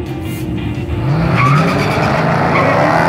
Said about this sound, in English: these tires were all over the road